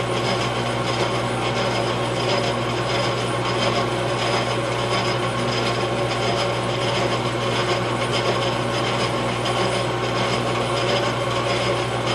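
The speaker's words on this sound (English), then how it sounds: "if you want to chamfer it a little bit, just roll down just a little bit like that" Tooling on a Farmall 450 tractor engine valve seat to chamfer its edge, a continuous dense grinding rasp with an underlying steady hum, even and unbroken, close up with no talking.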